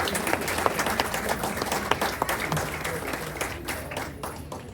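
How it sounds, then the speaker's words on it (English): A crowd at an Ambedkar Jayanti event in Houston, Texas applauds steadily for several seconds, a dense patter of many hands clapping that holds fairly even, then eases slightly toward the end. "So a big round of applause to late Raju Kamble sir."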